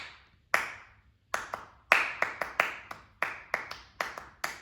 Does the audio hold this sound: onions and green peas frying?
no